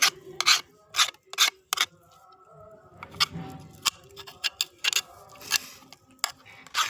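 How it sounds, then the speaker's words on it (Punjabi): A spoon scrapes freshly made homemade khoya from the pan in irregular, close, rasping strokes, each a short burst with brief pauses between. No one speaks. "ਹੁਣ ਆਪਾਂ ਚਮਚੇ ਦੀ ਹੈਲਪ ਦੇ ਨਾਲ ਖੁਰਚਣੇ ਦੇ ਨਾਲ ਸਾਰੇ ਖੋਏ ਨੂੰ ਲਾ ਲਾਂਗੇ"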